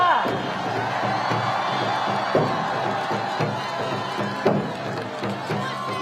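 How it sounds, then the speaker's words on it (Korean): A crowd at an outdoor Seoul election campaign rally claps and cheers, with shouts and whoops over dense applause and a few louder knocks, continuing throughout. "다시 한번 큰 박수 부탁드리겠습니다."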